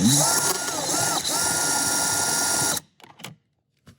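A power drill fitted with an extractor bit bores into a steering lock bolt, a loud steady whine grinding on for nearly three seconds before cutting off, followed by a few brief scrapes and taps.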